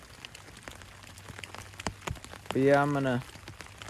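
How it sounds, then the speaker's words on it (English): Rain patters on a hammock tarp at night: soft, steady, irregular drops tapping close by, with someone briefly talking quietly over it near the end. "It's honestly just really relaxing being up off the ground and being able to listen to the rain"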